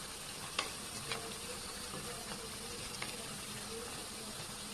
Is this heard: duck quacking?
no